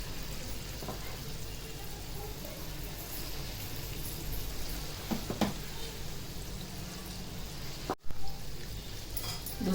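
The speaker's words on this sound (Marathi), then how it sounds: "दुसरी बॅच पण झाली आहे बघा तळून असे" Gulgule, small wheat flour and jaggery fritters, fry in hot oil with a dense continuous bubbling sizzle that stays close and steady throughout, with a few faint clicks of handling.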